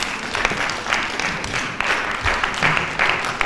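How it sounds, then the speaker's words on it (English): At a national student economics debate, an audience welcomes a panelist with a continuous round of clapping, many hands at once, full and fairly close. "a round of applause for him as he comes."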